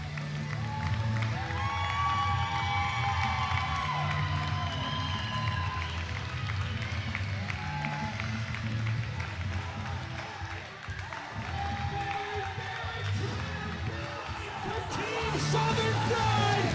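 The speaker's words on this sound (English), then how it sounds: "Listen to the crowd." A pro wrestling crowd at a Thanksgiving War Games match cheers and yells loudly after the bout, a continuous roar of voices and clapping over tonal music that swells again near the end.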